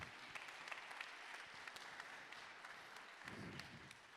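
An audience at an Impact Week breakfast event applauds with soft, even clapping that stays fairly quiet and distant, swelling slightly toward the end.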